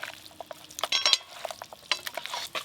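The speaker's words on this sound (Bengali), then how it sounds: "খুব ভালো করে মাংসে সব কিছু একসঙ্গে মাখিয়ে নেব।" Raw mutton being mixed by hand with lemon juice, mustard oil and slit green chillies, giving soft wet squelches and light clicks in an uneven rhythm, close and fairly quiet, with no talking.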